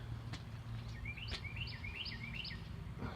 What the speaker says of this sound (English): Pretty little bird.